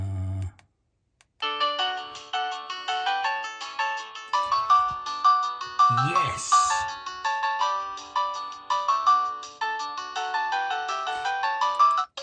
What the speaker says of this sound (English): Let's have a look at ringtones and that.